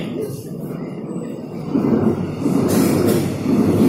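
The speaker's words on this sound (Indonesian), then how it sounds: "Kereta api." A train rumbles past close by, its heavy rolling noise swelling and pulsing rhythmically as the cars go by.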